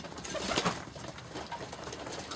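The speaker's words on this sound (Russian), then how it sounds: "да замечательные голуби у меня, да разные" Domestic pigeons in a dovecote coo softly nearby over a busy background murmur, with low, rounded calls and no voices during the moment.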